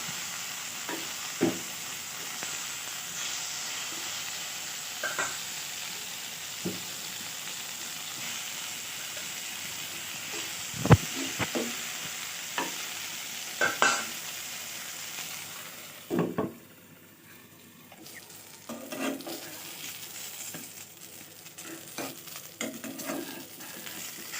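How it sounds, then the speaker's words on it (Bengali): Eggplant slices fry in a pan with a steady, close sizzle, marked by scattered clinks and scrapes of turning; the hiss drops away sharply partway through, then softer crackling and stirring noises continue. "এক পাশ হয়ে গেছে আরেক পাশ উল্টিয়ে দিলাম আর এই বেগুন ভাজাটা ভীষণ ভীষণ মজার খেতে"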